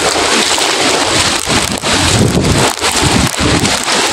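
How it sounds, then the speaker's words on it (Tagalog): Strong typhoon wind roars and buffets the microphone with heavy rain pouring down during a flood, a dense, loud, continuous rush that fills the whole moment. "Ang lakas ng hangin."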